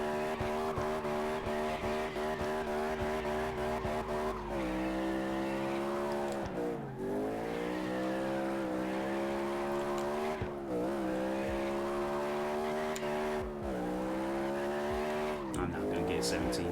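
Tires squeal through long drifts in CarX Drift Racing Online, a continuous loud engine whine with repeated rises and falls in pitch over about seventeen seconds, with a voice talking over it.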